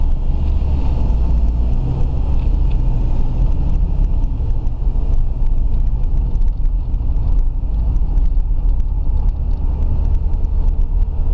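A Suzuki Grand Vitara 2.0 engine running on LPG makes a steady, unbroken low drone throughout, heard alone with some wind rumble and no speech.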